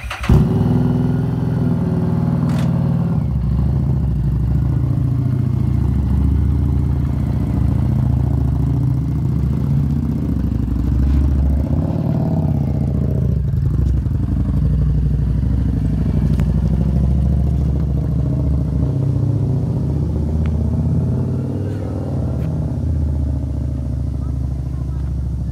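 A Harley-Davidson 750 engine rumbles steadily as it rides along, with rattling clatter and people talking over it throughout.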